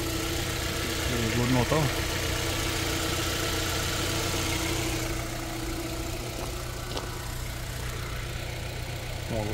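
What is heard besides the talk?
car engine idling with the hood open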